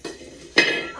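An iron griddle (tava) set down on a stove, giving two metallic clanks: a light knock, then a louder ringing clang that fades quickly, close by and otherwise quiet.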